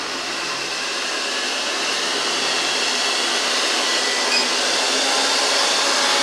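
A Grundig VCR 2330 robot vacuum cleaner runs with a steady, loud, airy whir of its suction motor, nearby and unbroken throughout, with no speech.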